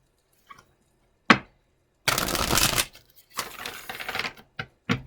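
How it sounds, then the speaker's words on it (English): Tarot cards being shuffled in bursts: a few light taps and clicks, then two dense riffling passes with snapping card edges, close and crisp with no talking. "One more shuffle"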